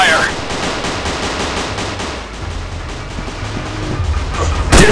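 Dense, continuous gunfire fills a Real Commando Shooting 3D battle on Android, a loud rattle of overlapping shots running throughout with faint game voices underneath.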